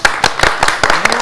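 An audience applauds in uneven bursts, several sharp, close claps spaced out rather than a continuous ovation.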